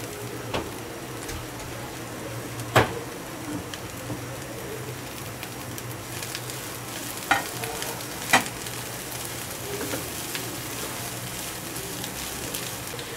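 Cabbage and capsicum stir-fried in a pan, with a continuous sizzle and a few sharp utensil clacks against the pan.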